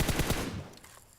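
In the mobile game PUBG Mobile, a weapon fires a quick burst of three or four loud, rapid shots that ring out and decay over a second.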